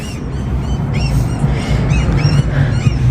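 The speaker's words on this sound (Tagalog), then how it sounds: "May mga ibon na ayan no." A flock of birds honking like geese, repeated nasal calls overlapping against a steady low rumble of background noise, fairly loud and continuous with no talking.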